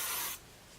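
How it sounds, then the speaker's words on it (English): A short hiss of Living Proof De-Frizz hair spray sprayed close by, one steady burst lasting about a third of a second before cutting off. "I'm actually going to take the Living Proof De-Frizz, and I'm just going to kind of spray this around"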